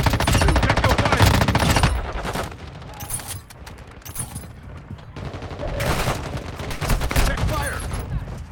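Sustained automatic gunfire from a Call of Duty Warzone match, loud dense bursts of rapid shots that ease off midway then return in heavy volleys, with game voice callouts mixed in.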